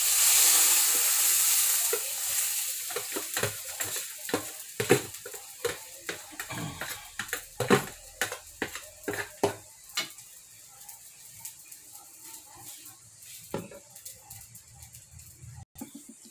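Chopped banana heart (saba banana blossom) hits a hot frying pan with squid, sizzling steadily while a utensil stirs and scrapes in a string of close, sharp clatters, the frying hiss fading gradually.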